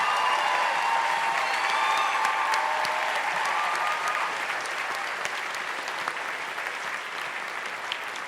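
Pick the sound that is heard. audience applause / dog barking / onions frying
audience applause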